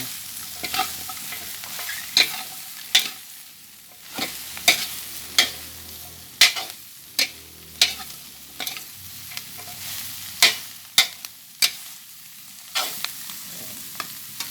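Kapak fish stirred in a hot pan with chili, a steady sizzle broken by repeated sharp scraping strokes of the spoon at an irregular rhythm, close and fairly loud, with no talking.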